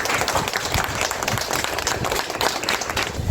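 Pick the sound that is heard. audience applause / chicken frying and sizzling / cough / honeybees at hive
audience applause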